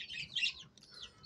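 A frightened bald-neck hen at a bird market gives a short burst of high, shrill squawking calls, faint and slightly distant, with a quieter second call near the end.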